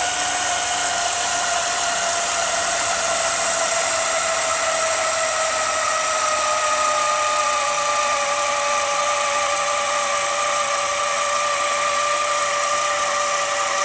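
An AGM Electric Jack PRO motor whines continuously while lifting a Can-Am Commander off the ground, a loud, steady high-pitched electric drone that slowly rises in pitch as the load comes up.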